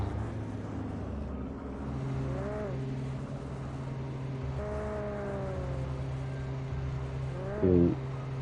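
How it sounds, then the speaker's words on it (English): Loud, harsh car engine roaring steadily in a video game, with rising and falling revs and a brief louder burst near the end, heard alone. "Is this the car making that unholy noise?"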